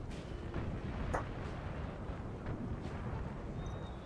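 Artillery fire in the Napoleon Total War video game, steady low battlefield rumble with a few distant, muffled cannon thumps scattered across a few seconds; no talk.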